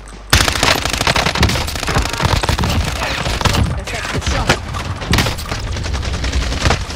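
Sustained automatic gunfire in a Call of Duty Warzone quads match, a loud, dense stream of rapid shots that begins abruptly and rattles on almost without pause, with occasional heavier bursts.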